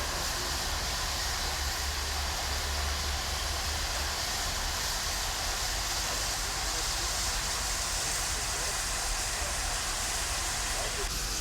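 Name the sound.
steam locomotives at a steam exhibition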